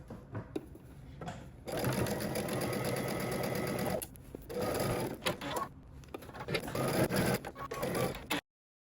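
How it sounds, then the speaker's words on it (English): A sewing machine stitches a dress facing at a 5/8 inch seam allowance in rapid, close bursts of whirring, with short pauses between runs and a final stop. "Once you have both your facings pinned, you're going to stitch using 5/8 of an inch seam allowance."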